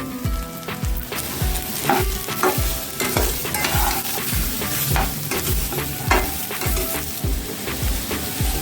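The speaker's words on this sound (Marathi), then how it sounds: "आणि तोंडली परतून घेऊयात आपण" Ivy gourd (tondli) is sautéed in a pan, with a steady sizzle under rapid, rhythmic spatula scrapes and clacks repeating close up throughout, with no talk.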